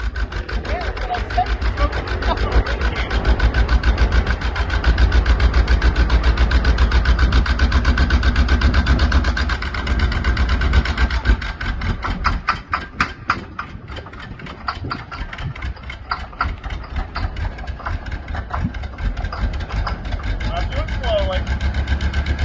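A small block Chevy engine runs steadily inside a box truck with low compression and a suspected head gasket problem, giving a loud continuous rumble with a rapid pulsing beat that turns rougher and choppier partway through.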